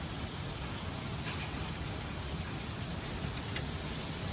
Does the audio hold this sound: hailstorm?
yes